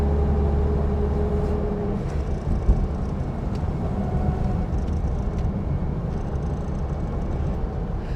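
A 1949 VW Beetle Hebmüller cabriolet with its air-cooled engine running while driving on a cold day, a steady low droning hum with road and wind rumble, constant and fairly loud throughout, no talk.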